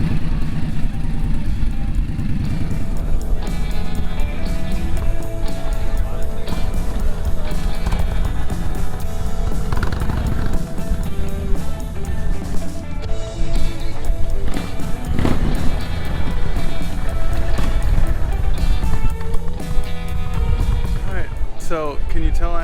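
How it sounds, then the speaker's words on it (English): A loud Indian Chief cruiser motorcycle with a 116 engine rumbles steadily throughout, with deep low-end throb and rising revs as the bike rides along. "Taking out the Indian Chief."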